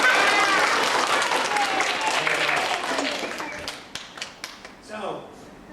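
Elementary-age children in a classroom at a magic show clap and cheer together, a loud burst that fades into scattered claps as an adult voice starts speaking.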